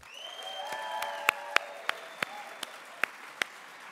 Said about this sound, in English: Let's start by giving Students for Liberty a huge round of applause for this amazing event.